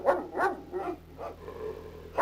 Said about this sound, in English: As soon as he stops barking so we can give him the bone.